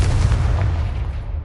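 Confringo blasting curse in a video game exploding with a loud, continuous low boom and rumble that fades slightly over about a second and a half.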